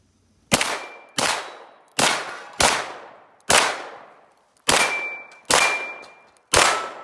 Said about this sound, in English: So we're just going to shoot some steel on it.